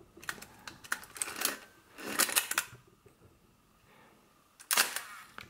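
Several sharp mechanical clicks and clacks of a Kiev 88 medium format camera's shutter and winding mechanism, close up, in separate bursts with quiet gaps between.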